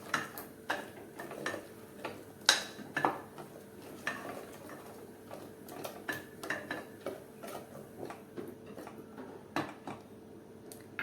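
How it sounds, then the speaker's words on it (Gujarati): Drumstick pods being mixed into a spiced gravy in a pot give repeated close clinks and scrapes of a spoon against metal, irregular and moderately loud, with no talking. "સરગવાની સિંગોને આ ગ્રેવી સાથે એકદમ સારી રીતે મિક્સ કરીએ ને એટલે અંદર મસાલો ચડી જાય"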